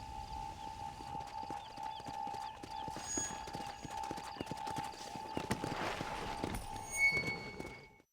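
Horse hooves clip-clop steadily in Red Dead Redemption: Undead Nightmare as a horse moves around inside Fort Mercer. The hoofbeats are close and continuous over a sustained tonal game ambience, with no talking.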